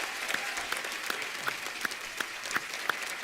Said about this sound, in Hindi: एक बार डॉक्टर साहब के लिए जोरदार तालियां हो जाए